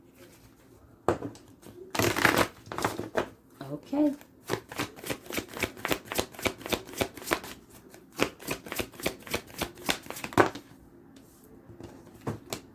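A deck of cards being shuffled up close, rapid riffling bursts and fluttering card snaps repeating in quick runs across the whole stretch, with a brief spoken word early on.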